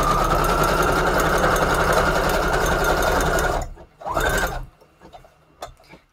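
A sewing machine runs at a steady, fast rhythmic whir for several seconds, then stops, followed by a short burst of stitching and a few faint mechanical clicks.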